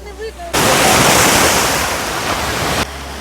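Sea waves rush in a loud, steady surge of broadband wash lasting a couple of seconds, heard close at a sea fishing spot before the sound drops away.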